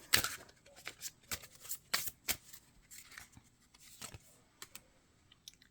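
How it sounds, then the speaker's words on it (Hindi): Tarot cards are drawn and shuffled close by, with soft, irregular flicks, snaps and rustles of card stock in a quiet room. "अब लास्ट कार्ड निकालेंगे।"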